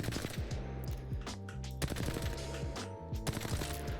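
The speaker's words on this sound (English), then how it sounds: "if you fire it in short 10-round bursts, show you here" Rapid bursts of automatic gunfire from a weapon in the Apex Legends video game, several short volleys fired in quick succession, close and punchy with no talking.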